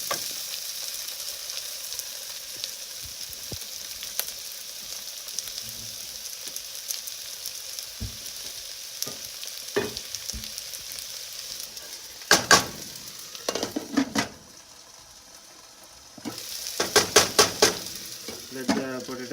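Potatoes frying for Portuguese bacalhau with cod, the pan covered, making a continuous soft sizzle. Scattered clicks and clatters of pan and utensils build into louder bursts near the end.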